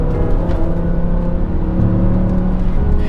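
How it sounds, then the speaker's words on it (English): A BMW E60 M5 sedan running on E85 fuel revs smoothly toward the red line, a loud continuous engine drone with steady harmonic tones holding close and strong throughout, no voices. "I'm amazed at how smoothly it revs to the red line."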